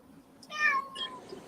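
Hungry house cats meowing, one clear rising-falling meow followed by a second shorter one, fairly close and distinct over a quiet room.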